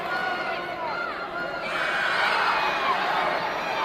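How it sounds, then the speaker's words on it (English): Woodford County crowd at a state wrestling championship match, a loud mass of voices cheering and rising in intensity partway through, with shouts mixed in. "You can hear the Woodford County crowd starting to amp up."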